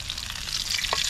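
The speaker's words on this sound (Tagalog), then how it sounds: "Ganda na pagkaka-prito doon eh." Food fries in hot oil with a close, steady crackling sizzle over a brief moment, with no voices.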